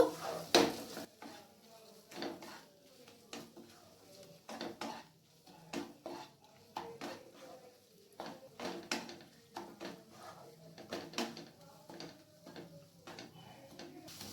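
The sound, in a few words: frying and stirring ginger garlic paste in a pan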